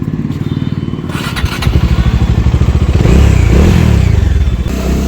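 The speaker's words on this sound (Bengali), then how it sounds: "গিয়ার ড্রপের আওয়াজটা আমার হেভি লাগে ভাই" A Phoenix motorcycle pulls away from a shop with a loud, close engine thrum, a clunk of gear drop and rising rhythmic exhaust pulses as it accelerates.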